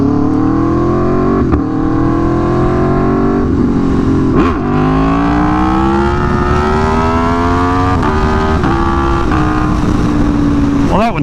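Aprilia Tuono V4 motorcycle engine revving hard and loud up close on a racetrack, rising through the gears with brief dips between shifts and a few faint exhaust pops.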